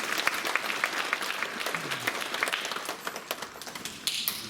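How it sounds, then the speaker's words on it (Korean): A church congregation claps together in a sustained round of applause during a Sunday worship service, dense, steady clapping filling the room for several seconds. "30년 동안 우리 교회를 지켜주시고 인도하신 하나님께 영광의 박수 돌리겠습니다"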